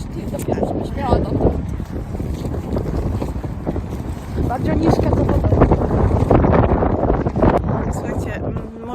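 Heavy wind buffets the microphone in rough, uneven gusts, with a person talking underneath and water sloshing nearby.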